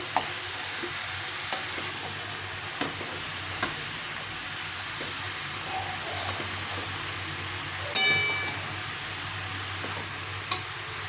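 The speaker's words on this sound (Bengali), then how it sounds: "এখন এটাকে ভালো করে একটু কষিয়ে নিতে হবে অনেকক্ষণ ধরে" Cabbage being stir-fried in a pan for a Bengali cabbage ghonto, with a steady soft sizzle, a low hum underneath and a few sharp spoon taps against the pan scattered through.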